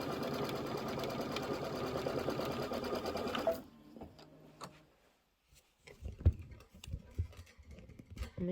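A sewing machine tacks down background fabric on a quilted pillow, running steadily for a few seconds, then stopping, followed by scattered ticks and handling clicks as it restarts in short bursts.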